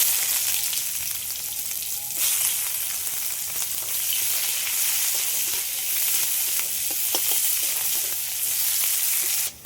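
Chopped onion sizzles in hot oil with whole spices: cardamom, cinnamon, cloves and a bay leaf. A loud, continuous frying hiss carries throughout with faint stirring, and no one speaks.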